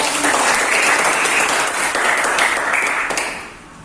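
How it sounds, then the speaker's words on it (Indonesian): Classroom applause fills the room, a dense steady clapping from a group of students that holds for several seconds before tapering off at the end. "Oke, tepuk tangan dulu untuk"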